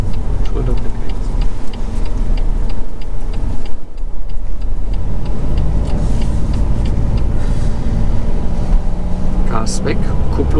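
A car's turn indicator ticks steadily and faintly inside the cabin during a driving lesson, under engine and road noise, while an instructor talks throughout.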